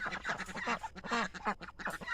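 Ducks quacking in a busy, overlapping flock at the evening roost, the calls loud and close and coming in rapid bursts with almost no pause.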